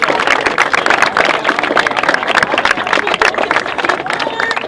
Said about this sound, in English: join me in a round of applause for the team that brought it together